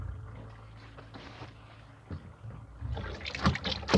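Water keeps leaking from a washing machine drain even with the drain shut, the fault lying in the drain valve; steady trickling and splashing, growing louder and busier toward the end, with no talk.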